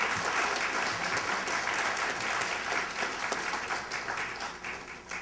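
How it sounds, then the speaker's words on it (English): Audience applause at a Democratic primary candidate forum in McLean, a continuous fairly soft patter of many hands clapping, steady for several seconds and gradually thinning toward the end, with no talk. "You're allowed to clap if you want to at this point."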